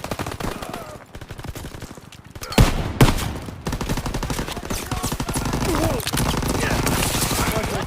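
Sustained gunfire and machine-gun bursts from the World War II shooter game Call of Duty WW2, a dense fusillade with a couple of louder booming shots near the middle, with players talking over the battle.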